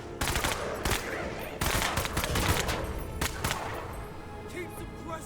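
Repeated gunfire from the tactical video game Menace, with rapid bursts and single shots cracking loudly in irregular clusters over dense battlefield noise, fading to quieter scattered sounds near the end.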